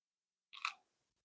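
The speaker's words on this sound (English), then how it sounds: "hear the crunch?" A single crisp bite into a crunchy nut cookie made with teff flour, a short close crunch that crackles briefly and then stops, heard in an otherwise quiet room with no talking.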